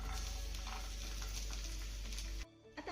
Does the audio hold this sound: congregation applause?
no